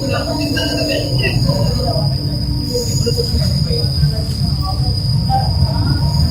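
A Chennai Metro train runs on its rails between CMBT and Chennai Central, giving a steady loud rumble with a sustained high wheel squeal throughout, heard from inside the car.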